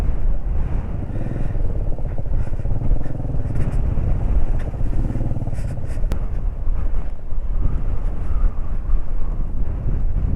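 Motorcycle ridden off-road through a water crossing on a rough mountain route, engine rumble steady and loud with heavy wind buffeting the microphone throughout, no clear splash bursts standing out.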